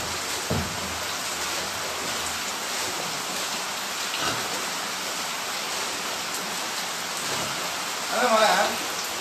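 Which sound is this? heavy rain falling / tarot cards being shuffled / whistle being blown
heavy rain falling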